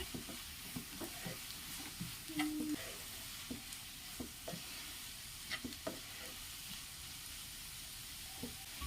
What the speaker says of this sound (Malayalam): ഇനി ഇഞ്ചി വെളുത്തുള്ളി ചതച്ചതും കൂടി ഇട്ട് കൊടുത്തിട്ട് നമുക്ക് നല്ലതുപോലെ ഒന്ന് വഴറ്റി എടുക്കണം